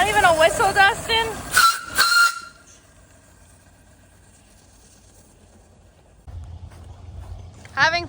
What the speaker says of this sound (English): Not even a whistle, Dustin?